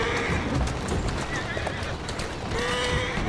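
A horse in Assassin's Creed Syndicate whinnies loudly over a steady clatter of hooves, the neigh wavering and then fading as the hoofbeats continue.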